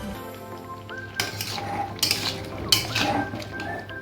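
A spoon mixes ground spices into a fish curry with winter vegetables in a pot, giving repeated metallic scrapes and clinks in several bursts over a steady low hum.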